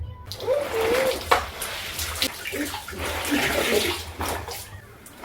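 Water runs and trickles from washed rags as they drain, a continuous splashy wash of sound with a few louder drips and splatters, close and fairly loud.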